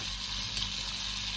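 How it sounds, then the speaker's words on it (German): Peppermint fries in a pan as the base for a Turkish soup, giving a soft, steady sizzle that runs on continuously at moderate volume with no talk over it. "Pfefferminze anbraten für die Suppe."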